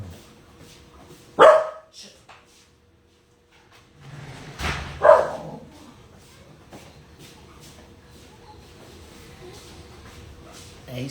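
A dog lets out two loud, separate barks a few seconds apart, sharp and close, with quiet room noise and faint shuffling in between.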